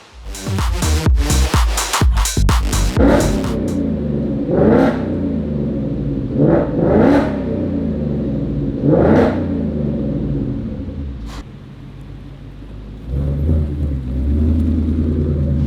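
Loud, raspy revs from an engine fitted with a cheap $200 muffler delete: sharp blips at first, then several long swelling revs that rise and fall over a steady idle drone, with no talking.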